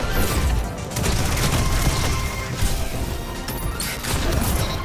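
A Destiny player-versus-player match fills with dense, loud bursts of explosions and rapid gunfire from Bombardiers, a continuous chaotic barrage with no talking.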